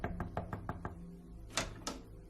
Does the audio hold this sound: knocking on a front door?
yes